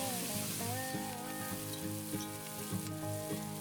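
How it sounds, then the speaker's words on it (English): Diced celery and onion frying in oil left over from cooking porcupine meat, a steady close sizzle and crackle running without pause, with no voices. "in the same oil, I'm going to cook the celery and the onion that I diced all up"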